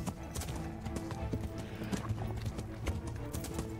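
A horse galloping in Kingdom Come: Deliverance, quick rhythmic hoofbeats close and steady with a brief neigh, set under light game sounds and no talk.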